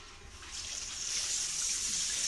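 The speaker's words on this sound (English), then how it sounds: "So I'm going to run it under some hot water." Hot tap water runs over a container of goldenrod honey, a steady hissing gush of water that builds slightly and continues, close and alone without voices.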